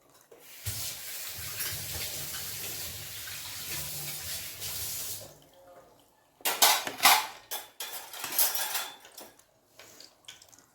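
Chicken stock for chicken mandi pours into a cooking pot as a steady rushing stream for about five seconds. Clattering of the pot and utensils follows in irregular bursts.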